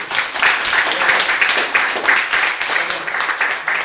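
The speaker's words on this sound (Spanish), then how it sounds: "Fuerte aplauso." Loud, dense applause from an audience at a literary reading or class about Arreola, a steady close wash of many hands clapping with slight rhythmic pulsing throughout.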